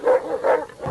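A dog at a dog show gives two quick, loud barks close by, evenly spaced, followed by a softer trailing sound.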